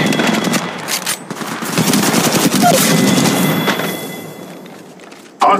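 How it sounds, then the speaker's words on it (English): Rapid automatic gunfire in the Apex Legends battle royale game, with dense bursts of close, loud shots that sometimes overlap, plus a few thuds and a sharp final crack. "I'm taking the shot."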